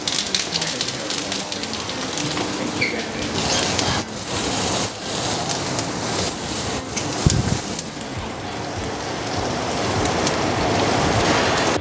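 Padron peppers sizzle and crackle steadily in a hot pan alongside meat, a dense close frying hiss with a few louder pops, no talk over it.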